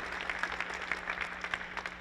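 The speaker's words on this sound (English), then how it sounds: "Give yourself a round of applause." Conference audience at a physical education institute applauding, a soft, fairly distant patter of many hands clapping that stays even for the full length.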